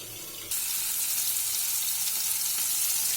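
Tomatoes frying in a pan for a baby potato curry, a steady bright sizzle that jumps louder after a moment and then holds evenly, with no talking.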